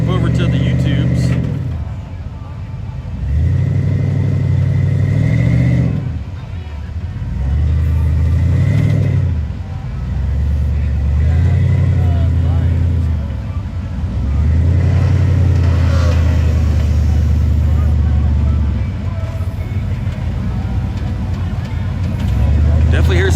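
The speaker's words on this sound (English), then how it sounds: "Definitely hear some throttles in the distance." Rock crawler engines at a WERock night event in Reno, Nevada rev in repeated surges from a distance, swelling and fading in low rumbling bursts under steady crowd chatter and talk.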